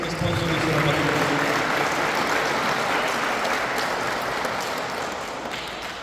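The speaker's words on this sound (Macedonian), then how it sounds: "Ќе ја замолам за еден голем аплауз да ги поздравим сите спонзори за работата." Audience applause for sponsors at the opening ceremony of a memorial tournament, a dense, sustained clapping from a large crowd that slowly tapers toward the end.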